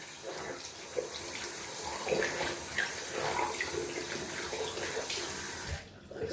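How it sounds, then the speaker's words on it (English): Tap water runs steadily into a sink while shaving lather residue is rinsed away, a continuous close splashing hiss lasting several seconds before cutting off near the end. "Just cleaning off a little bit down in the sink, which looks like a mess over here and lather residue."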